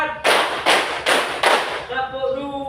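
A classroom full of students claps in unison during a concentration exercise, four sharp group claps in quick succession, then the claps stop and voices carry on.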